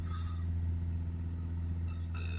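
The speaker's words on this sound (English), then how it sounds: "I'm just holding the revs up again to clear out the smoke." A Citroen Berlingo 1.6 HDi diesel engine held at steady high revs, a constant low drone with even tone throughout, heard alone without speech.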